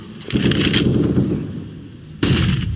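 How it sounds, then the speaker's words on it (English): Two bursts of AK rifle fire in a Counter-Strike match on the Inferno map, rapid rattling shots followed by a pause, then a second burst. "just going to use every bullet of that AK, every single one"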